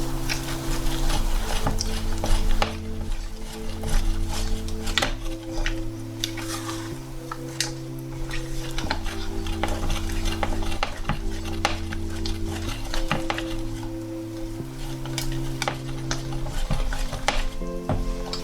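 Cheesecake brownie batter with sugar and salt is mixed in a bowl, making a steady close scraping and tapping of utensil against the dish, with background music playing throughout.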